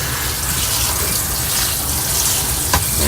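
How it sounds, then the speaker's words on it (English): Fresh tap water gushes steadily into a laundry bucket for rinsing, a continuous close broadband rush filling the whole moment, with a brief knock near the end. "get some more fresh water going in here."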